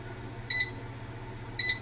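A MOCREO water leak detector sounds two short, loud, high-pitched electronic beeps about a second apart over a quiet background.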